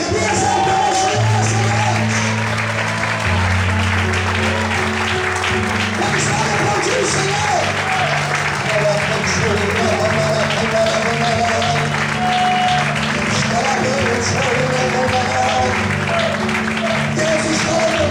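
A church congregation claps and cheers in praise during an evening worship service, a continuous crowd roar layered under loud music with sustained chords and a voice over the top.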